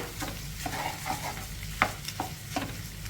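Spinach and egg stir-fried over a medium flame, a steady low sizzle with repeated scraping and stirring clicks of a spatula against the pan, close and alone.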